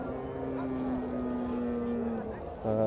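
A cow or heifer at a rural cattle market gives one long, loud, close moo that holds steady for over two seconds, with market murmur and a faint engine hum underneath.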